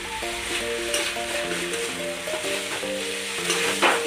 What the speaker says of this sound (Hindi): तो अभी हम इसको मिक्स कर देते हैं विनेगर और जो सोया सॉस डाला है हमने इसमें